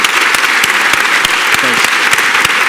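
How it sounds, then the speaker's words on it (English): Brief burst of dense audience applause at a business club event in New York, loud and close, a steady patter of many hands clapping. "So please, Jeff, a round of applause."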